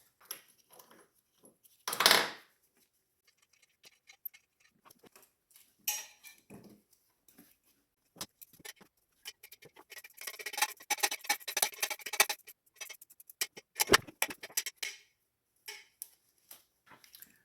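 Header bolts being tightened on a BMW E46/E39 engine, sparse metallic ratchet clicks and tool clinks in bursts, with a louder clatter early and a dense run of rapid ratcheting in the middle, close and otherwise quiet.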